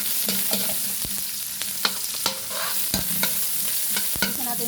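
Chopped ginger fries in hot oil for a mussel tinola, crackling and sizzling up close while a spoon scrapes the pan in repeated irregular strokes, no voices.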